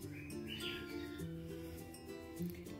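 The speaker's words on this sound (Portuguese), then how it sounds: "meu periquito ali começou a assoviar que não para mais" A pet parakeet whistles and chirps indoors, a faint, steady twittering that runs throughout under a low hum, with no one talking.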